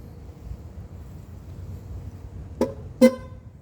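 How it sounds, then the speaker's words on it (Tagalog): Motorbike horn giving two short honks, the second louder and slightly strangled, after a stretch of low engine and wind rumble. "Parang naipit yung ating busina."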